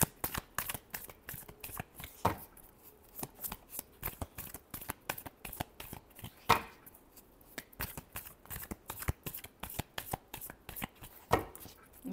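Tarot cards are shuffled by hand in quick, papery riffles and taps, steady and close, with brief pauses between bursts over about twelve seconds. No speech.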